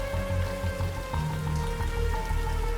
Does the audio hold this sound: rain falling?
yes